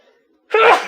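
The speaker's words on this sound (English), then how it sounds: "I make the loud dad sneezes." A man lets out one loud, explosive sneeze up close, a short sharp burst after a moment of near silence.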